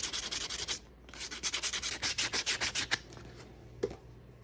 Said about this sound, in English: Use some 220 sandpaper on the cut edge and then deburr the inside.